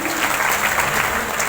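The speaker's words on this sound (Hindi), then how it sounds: "उन्नत के लिए जोरदार ताली होनी चाहिए।" Sustained loud applause from a large audience at a DXN meeting, an even wash of clapping with some murmured voices beneath.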